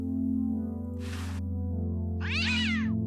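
A cat in the adventure game Day of the Tentacle Remastered gives two short meows when petted, clear and close over a steady game music drone.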